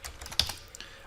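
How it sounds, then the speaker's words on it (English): Keys clacking on a computer keyboard while entering switch interface ranges for a network configuration, a short run of close, crisp taps with one sharper stroke near the middle. "I'm going to type this in."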